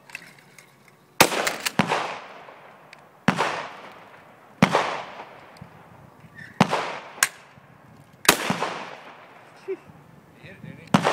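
Shotgun shots at clay targets, six sharp loud blasts spaced a second or two apart, each with a short echoing decay, while people talk between shots.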